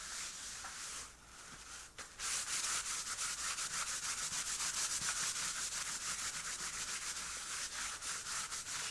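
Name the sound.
wiping up art journal mess with a paper towel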